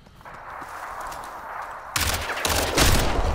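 Bursts of gunfire in Crysis 3 multiplayer team deathmatch, a low steady game backdrop giving way to loud, sharp shots and a dense rapid volley near the end, with no talking.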